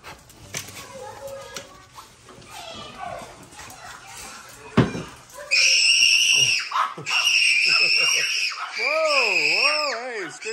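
Pet dogs greet a returning owner with loud, close, wavering high-pitched screams and whimpers that rise and fall in long excited cries, after a stretch of talking and handling noise.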